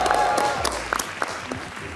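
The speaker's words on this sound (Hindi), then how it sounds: "भरपूर तालियों में तशरीफ ला रही हैं रबिया रिजवान।" Studio audience applause greets a female comedian walking on stage: a steady wash of clapping that stays fairly loud for about two seconds, with a few sharper claps standing out.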